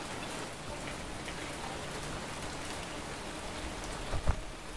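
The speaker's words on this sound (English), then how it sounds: "Light rain, but it's sunny." Steady light rain in the survival video game Fountain of Youth, a constant dense hiss of falling drops with a few soft thumps near the end and no speech over it.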